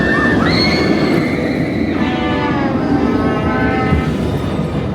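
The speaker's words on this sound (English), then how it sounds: "So you see the train's going to be coming around any minute now" A theme park ride train approaches at Alton Towers with loud rumbling and screeching wheel squeals rising and falling over a dense, continuous background roar.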